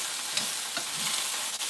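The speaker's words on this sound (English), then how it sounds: "We got our tomatoes in here. And we got our onions. We're getting a nice caramelization." Green chili, tomatoes and onions sizzle and caramelize in a pan, a steady close frying hiss with a few soft stirring scrapes and no talking.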